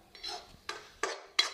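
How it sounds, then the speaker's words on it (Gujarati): A spoon clinks and scrapes against a wok where onions and tomatoes are frying for a soybean masala, with four distinct metallic strikes spaced about half a second apart over faint background hiss. "આપણા કાંદા ટામેટા ફ્રાય થઈ રહ્યા છે"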